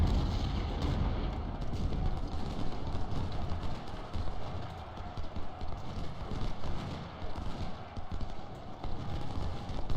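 Constant battlefield noise from the Civil War game Ultimate General: Civil War, dense gunfire and artillery rumble forming a loud continuous din with scattered sharp cracks throughout.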